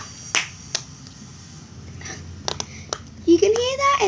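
Several sharp, isolated snaps from a snapper fidget toy, spaced irregularly and close by, followed by a voice at the end.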